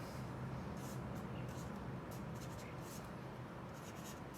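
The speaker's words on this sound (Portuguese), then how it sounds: "Vamos desenhar um cubo." Steady scratchy pencil strokes on paper while a cube is drawn in perspective, close and continuous, with faint voice murmur underneath.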